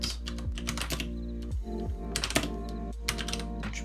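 Typing on a computer keyboard while working in the Notion app, quick irregular key clicks in short bursts, close and clear, with no talk.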